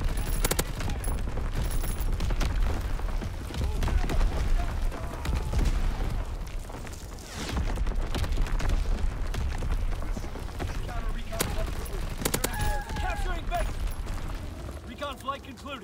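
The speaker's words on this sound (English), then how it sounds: "Incoming enemy artillery. Get to cover." Enemy artillery explosions in a WW2 video game, heavy rumbling blasts and crackling gunfire layered into a dense, continuous battlefield roar, with voices calling out over the din.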